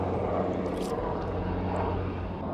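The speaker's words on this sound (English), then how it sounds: "A helicopter has come to fucking catch us." Helicopter flying over the sea, a steady loud rotor and engine drone that holds without a break from start to finish.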